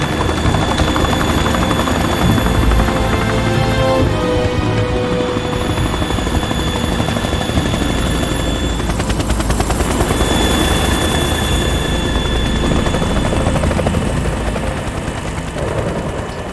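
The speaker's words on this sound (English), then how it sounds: "you probably want to be one of the guys actually manning the chopper." Helicopter in the video game Metal Gear Solid 2, a loud continuous rotor thrum and engine whine that fills the whole stretch, with rattling gunfire bursts mixed in at points.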